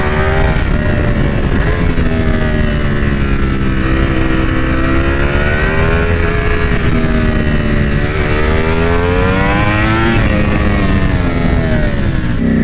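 A 2021 Ducati V4R motorcycle engine screams at high RPM, close and loud, its pitch rising and falling steadily through the gears for the whole stretch, with no talking.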